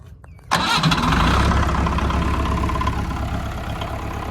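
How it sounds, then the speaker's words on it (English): A Leyland 154 diesel tractor on a cold morning cranks briefly, then catches and starts, settling into a loud, steady, smooth idle close by. "I will try to crank it over with one hand here"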